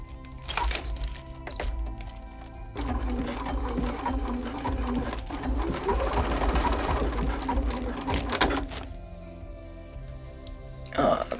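A sewing machine stitches a curved glove seam on tissue paper, a close mechanical whir that runs steadily for several seconds between short clicks and handling thumps, with no talking over it.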